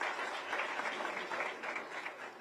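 Soft, continuous applause from the audience at a Samajwadi Party press conference: many hands clapping at a moderate distance in an even, crowded patter that runs the whole time without a break.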